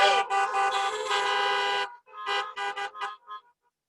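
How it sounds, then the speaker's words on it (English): A long, loud car horn blast, then a burst of several shorter honks from multiple horns in quick succession before falling silent. "you can honk louder than that"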